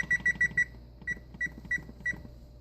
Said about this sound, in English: so the timer beeps, so I'm going to make sure that they're ready